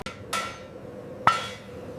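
A forging hammer strikes katana steel in a Japanese sword workshop, two sharp metallic blows ringing out about a second apart over a quiet room.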